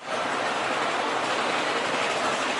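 A Japanese subway train runs close by with a steady, loud broadband roar of wheels and rails, continuous and alone with no voices.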